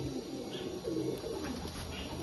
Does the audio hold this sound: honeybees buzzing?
no